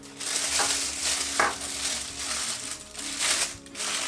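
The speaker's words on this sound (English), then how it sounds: "We're just gonna take our spatula, and we're just gonna give it a good mix first." Buttercream being mixed with a spatula in a bowl while making a gooey chocolate layered cake, a steady scraping and stirring texture with a soft rhythmic swish, fairly close, over a faint low hum.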